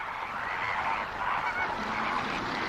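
A flock of flamingos sounds loud honking alarm calls, overlapping into a continuous, dense clamour from many birds at once.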